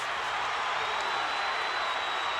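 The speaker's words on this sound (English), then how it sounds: "Crowd trying to lift their man." A boxing arena crowd roars in a steady, distant wash of cheering at the Oscar De La Hoya vs Ike Quartey fight, with fans urging on their fighter.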